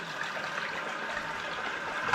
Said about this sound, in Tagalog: And then, lagyan natin ng tubig.